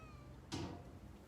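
A cat gives a single short whining meow, faint and close in a quiet indoor room, surrounded by near silence.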